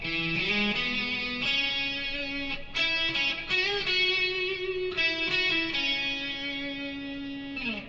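Distorted electric guitar plays a lead solo, with string bends, a quick run and sustained notes, loud and alone with no talking.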